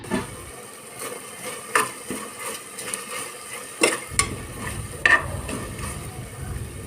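Spices, including chili powder, turmeric and bay leaf, lightly frying in a pan for mutton leg soup, with a gentle sizzle under sporadic wooden knocks and scrapes as they are stirred.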